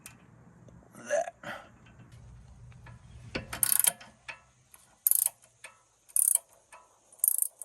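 A ratchet loosening the nut on a sway bar link of a Jeep Grand Cherokee WK2 during a 3-inch lift install. Short bursts of clicking come at a steady spacing, close and fairly loud, with quieter handling noises between them.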